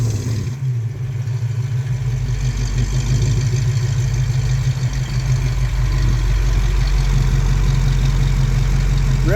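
A 1965 Ford Mustang engine with Holley Sniper fuel injection idles steadily nearby with a deep, even rumble and light mechanical clatter, heard from behind the car, no voices over it.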